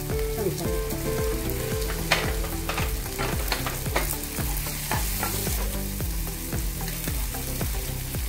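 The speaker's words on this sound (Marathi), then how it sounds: "कांदा चांगला ब्राऊन कलर भाजून घ्यायचा" Onion frying in a pan with turmeric and masala powder for dal tadka, a steady loud sizzle with rhythmic scraping stirs throughout, no talking.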